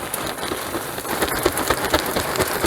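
Charcoal pellets pour into the emptied hopper of a Pit Boss pellet grill, giving a continuous loud rattling patter with a few denser bursts.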